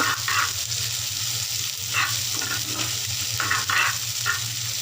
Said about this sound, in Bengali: এগুলোকে একটু ফ্রাই করে নেব